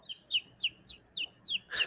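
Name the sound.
person imitating a little bird's chirp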